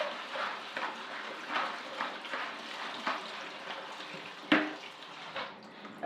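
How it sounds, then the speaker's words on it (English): Tap water runs steadily into a kitchen sink while salad leaves are washed for a vegan guacamole recipe, a soft continuous splashing with small irregular surges and splashes, fairly faint and close. "I'm sure you don't need me to show you how to wash salad"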